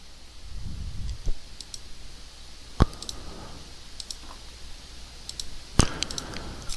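Sharp, isolated computer mouse clicks made while painting with a brush tool in GIMP, a handful of crisp taps spaced irregularly a second or more apart over a quiet room hiss, close and distinct.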